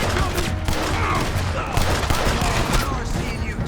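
Rapid, dense gunfire in a Red Dead Redemption 2 shootout, a steady rattling fusillade under rumbling low background, with a voice speaking over it.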